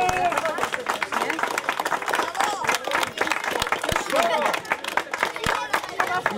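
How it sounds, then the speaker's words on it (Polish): Audience applause at a youth football tournament awards ceremony in Poland, a dense continuous clatter of many hands mixed with crowd chatter and cheering voices, steady and fairly loud throughout. "wielkie brawa"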